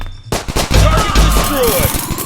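Pistol gunfire from the Dude Theft Wars multiplayer video game erupts suddenly as a loud, dense burst of rapid shots.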